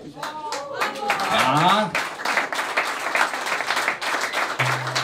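An audience at a Frühschoppen gathering breaks into sustained clapping, preceded by whistles and voices, with the applause fairly loud and steady before fading near the end.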